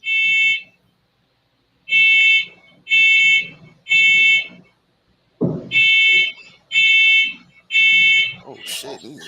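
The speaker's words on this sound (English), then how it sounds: "My man said it might be a fire alarm." Alarm beeping in loud repeated bursts, roughly half-second to one-second tones in groups separated by pauses, with a brief break in the pattern and some background noise between bursts.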